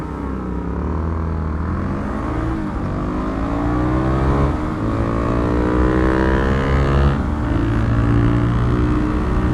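Motorcycles race each other, a Suzuki DRZ 400 alongside a Kawasaki Ninja and a GSX250R, their engines revving hard and rising in pitch through the gears in a loud, continuous roar with no talk over it.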